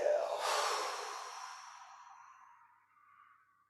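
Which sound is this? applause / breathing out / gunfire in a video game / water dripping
breathing out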